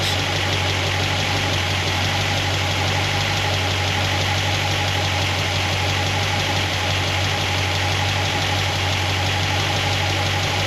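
A car engine with solid roller lifters idles steadily up close while warming up, a constant low rumble with a faint rhythmic knock and no voices.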